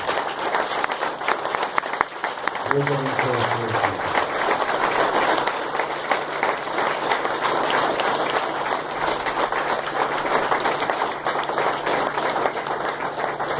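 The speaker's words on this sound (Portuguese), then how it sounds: "Eu vou pedir mais uma vez, com muita vontade, que você aplauda esta equipe" A church congregation applauding the team, sustained loud clapping filling the room throughout, with someone speaking briefly over it near the start.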